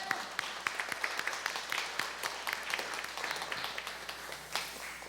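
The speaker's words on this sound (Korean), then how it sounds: "하나님께 우리의 마음과 우리의 정성을 담아서 영광의 박수로 하나님께 올려드리도록 하겠습니다" A church congregation offers applause to God during a worship service, a soft, somewhat distant patter of scattered claps sustained for several seconds.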